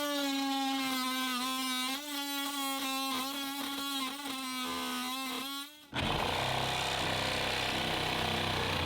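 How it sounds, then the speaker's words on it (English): A small cutoff tool whines loudly and steadily as it cuts into a Jeep hard top, its pitch wavering for about six seconds before breaking into a harsher, broadband grinding rasp. "I'm going to try this little cutoff tool."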